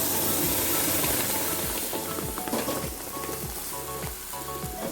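A hot tempering of curry leaves in oil is poured into banana stem chutney, giving a loud, close, crackling sizzle with light stirring clinks, easing slightly in intensity as it goes on.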